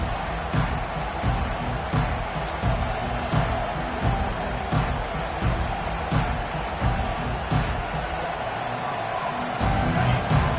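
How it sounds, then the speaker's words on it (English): A stadium crowd in NCAA College Football 25 roars steadily at a Notre Dame kickoff, a dense, continuous wash of cheering that stays loud throughout. "This crowd bringing an ear-splitting welcome to their visitors."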